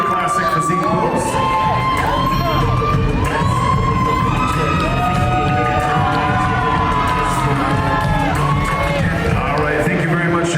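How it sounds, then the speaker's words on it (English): Loud crowd at a bodybuilding show cheering, whooping and shouting continuously, with scattered clapping and a steady roar throughout. "How about a big round of applause for Kyle Madsen?"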